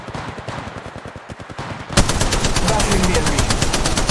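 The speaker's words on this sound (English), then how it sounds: "Shots fired at me." Rapid automatic gunfire in the online shooter Apex Legends, scattered shots at first and then a loud, continuous burst of fire at close range.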